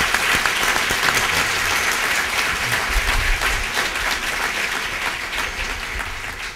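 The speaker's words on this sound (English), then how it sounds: "we could please give all our panelists a round of applause" Applause for the panelists at a power breakfast: a room of hands claps steadily and fairly loudly, slowly thinning toward the end, with a few low murmurs mixed in.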